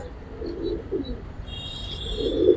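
Giribaz and racer pigeons give a few soft coos and light chirps over a quiet background, faint and brief.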